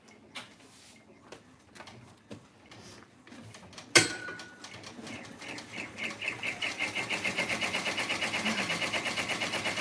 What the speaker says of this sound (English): ready to embroider now.